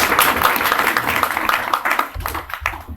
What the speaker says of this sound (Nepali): पहिलोचोटि उहाँलाई चाहिँ हामी ताली बजाएर स्वागत गर्नेछौँ